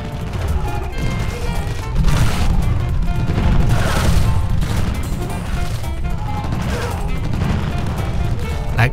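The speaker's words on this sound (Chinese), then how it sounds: "不停的爆炸" Explosions in the battle game Totally Accurate Battle Simulator: dense, continuous booming and crackling blasts that roll together with no pauses, loud and close throughout.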